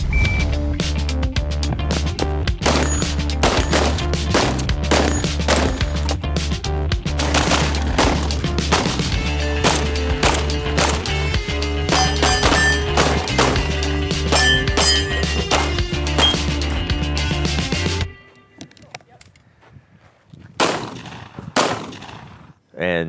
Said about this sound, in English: see how well she can shoot